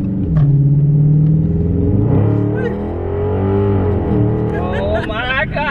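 A 2020 Dodge Charger Scat Pack V8 accelerating hard, its deep rumbling engine note rising and shifting through gears from inside the car while people whoop and talk over it.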